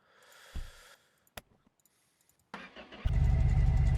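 A supercharged car engine, untested, cranks with a few clicks and sputters, then catches and roars loudly to life, running steadily at the end.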